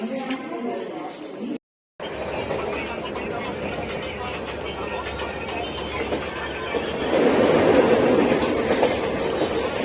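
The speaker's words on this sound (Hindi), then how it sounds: "और ट्रेन आ चुकी है, चलो चलते हैं।" A train rumbles steadily at a station in India, with continuous clattering wheel and carriage noise, close and loud. It briefly cuts out, then grows a little louder toward the end.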